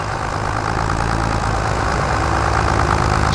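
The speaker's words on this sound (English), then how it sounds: "This tractor's probably a little too small for this." A small farm tractor idles with a steady, even, loud rumble that continues unchanged throughout, with no other sounds.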